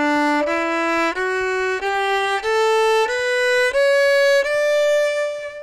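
A bowed string plays a rising sequence of even, plain notes, each step evenly spaced with little swell or shaping, clear and close.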